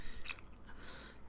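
Close, quiet gum chewing with soft wet clicks and smacks, one sharper snap early on, over a low hush.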